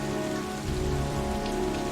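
Steady rain falls in the video game Heavy Rain 2, a dense, even patter on surfaces that holds at a constant level with no voices.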